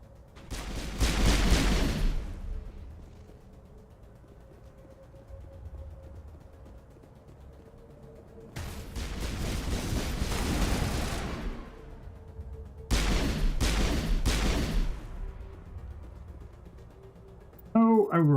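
Bursts of video game gunfire in Mass Effect come in three loud, dense volleys separated by quieter stretches, with a low hum and people talking lightly in between.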